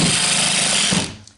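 A power drill drives a screw into a small drywall patch, a steady, loud, high-pitched whirring buzz for about a second before it winds down and stops.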